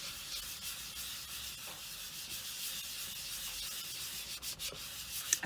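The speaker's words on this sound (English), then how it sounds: "give this a nice burnish just to get them sides to join" Soft, steady rubbing as the edges of a liquid polymer clay pendant are burnished by hand, close and faint, a continuous gentle scraping hiss with a few slightly sharper strokes near the end.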